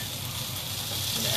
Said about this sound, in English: I'm going to move that guy over to let that piece of fish finish off with the pan on ultra low.